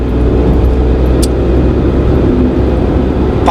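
A car's engine accelerating and shifting up gears on a UK driving test route, a steady broadband engine and road drone continuous throughout, close and fairly loud, with no speech.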